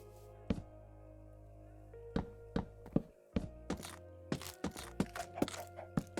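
In the video game Minecraft, blocks are placed one after another to build a horse stable, each landing as a crisp thunk in an irregular, quickening series over soft background music.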